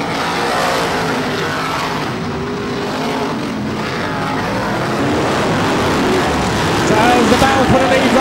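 BriSCA F1 stock cars race down the home straight of an oval track, a loud blend of roaring engines that swells near the end, under an excited commentator talking throughout.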